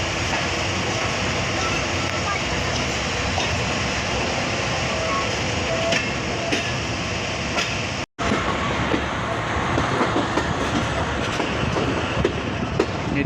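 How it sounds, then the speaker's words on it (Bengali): The Barendra Express rolls out of Birampur railway station in light rain, a loud, continuous rumble of wheels on rails with rhythmic clacking, heard close from on board, broken by one very brief dropout partway through. "রিমঝিম বৃষ্টির মাঝে আমাদের ট্রেন ছেড়ে যাচ্ছে বিরামপুর রেলওয়ে স্টেশন"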